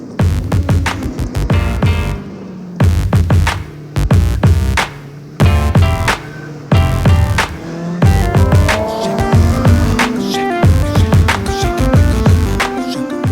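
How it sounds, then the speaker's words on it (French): Stock-exhaust motorcycle lapping a speed circuit, engine rising through gears with repeated sharp revving bursts and brief gaps at shifts, loud and close throughout. "sois pas surpris si le bruit de la moto reste très discret"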